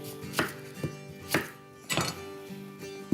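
Knife chopping through an onion on a cutting board, four or five separate close, crisp cuts spaced out at an uneven pace.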